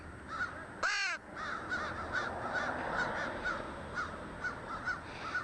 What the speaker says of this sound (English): that's 2 crows